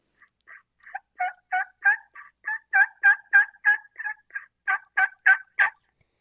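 A turkey diaphragm mouth call blown in a series of about fifteen raspy yelps, loud and close, in short evenly spaced bursts that build toward the end, with no talking.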